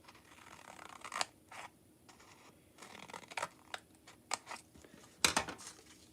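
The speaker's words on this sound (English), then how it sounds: "I have my paper, I fold it, and I cut 2 lines from the fold edge" Paper scissors snip two cuts into the folded edge of a paper card, giving several short, crisp cutting bursts with quiet paper handling between them, heard close up and alone.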